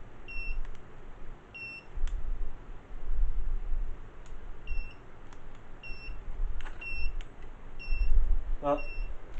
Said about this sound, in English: So just gotta figure out why it's beeping.